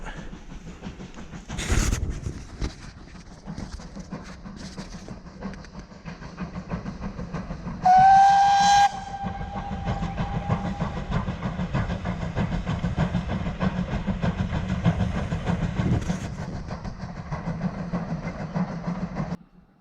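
A steam train rumbles steadily past beside the River Severn with rhythmic clatter, and a loud whistle blows once partway through before the rolling noise carries on.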